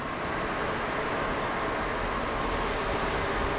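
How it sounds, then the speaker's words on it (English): A new VIA Rail passenger train set for the Quebec City–Windsor corridor gives off a steady, broad rumble and hiss, constant throughout, with no talk. "You can see the new train set behind me."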